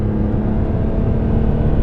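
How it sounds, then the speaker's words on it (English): A BMW E46 M3's S54 straight-six pulls hard under acceleration, heard from inside the cabin with the windows closed: a loud, continuous engine drone that holds steady with no talking. "I'll close the window so you can get a pull without road noise."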